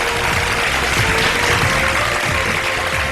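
Studio audience applauding three guests on a TV game show, a dense steady wash of clapping throughout with no talk.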